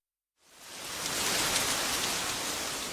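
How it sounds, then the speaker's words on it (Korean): Heavy rain shower pours steadily outside a window, a dense, continuous hiss that swells in within the first half second and holds loud and even. "창밖으로 소나기처럼 억센 비가 내리고 있다."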